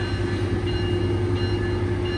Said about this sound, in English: There goes the train. It's about to head out.